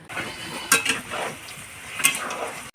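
Onions and meat being stirred and fried in a biryani pot, with a steady close sizzle and two sharper bursts of scraping and clatter from the spoon against the pot.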